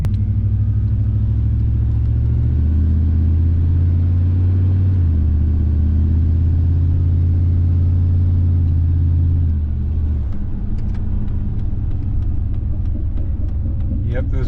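A Dodge Ram truck that had sat unmoved for two years rumbles as it drives off, its engine a loud, steady low drone that shifts pitch as it pulls away, with people talking over it.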